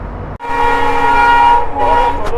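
A Vistadome tourist express running from Alipurduar to Siliguri through the Dooars rolls onto the Dangapara railway bridge over the Mujnai river. It gives a loud, close, sustained droning tone like a horn over rumbling wheels, briefly broken near the start.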